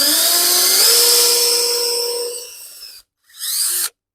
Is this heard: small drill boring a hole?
yes